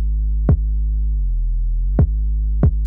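A clean, undistorted 808 bass from a hip-hop beat, a smooth deep sine-like tone that drones steadily while three short ticking hits land about a second apart, with no voice over it.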